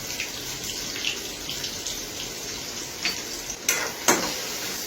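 Onion frying in oil in a pan with a little asafoetida, a soft steady sizzle up close with a few louder crackling bursts near the end.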